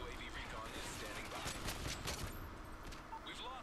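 Gunfire in a multiplayer shooter game, rapid shots striking planted C4 explosive, dense crackling bursts under a steady game soundscape with faint voice.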